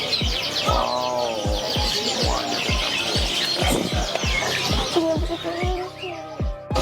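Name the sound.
starlings (burung jalak) chirping at a bird market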